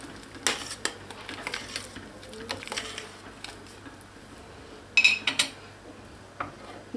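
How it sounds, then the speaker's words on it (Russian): A spoon stirs buckwheat soup with meat in a pot, giving scattered soft scrapes and clinks at close range, with a couple of sharper metallic taps near the end. "Все это перемешиваем."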